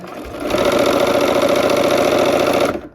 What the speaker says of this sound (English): Let's sew that quarter square triangle to the end of the row.